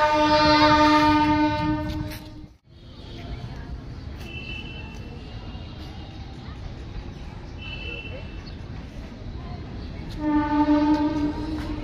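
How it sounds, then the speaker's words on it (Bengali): A passing train sounds a loud, sustained horn blast, goes briefly quiet, then rumbles steadily past with a short high tone. A second long horn blast follows near the end, and voices talk over it. "bye bye train"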